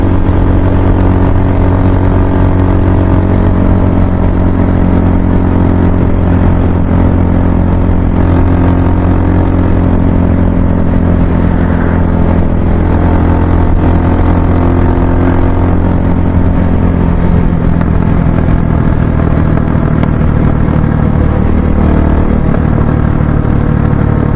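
The engine of a Hawk motor vehicle runs continuously at low RPM, a loud, steady, close droning hum that holds evenly without pauses or changes in pitch.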